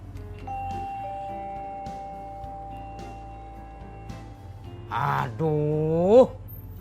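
A doorbell rings with a steady electronic tone, followed by a louder two-note ding-dong chime that rises and fades. No talking.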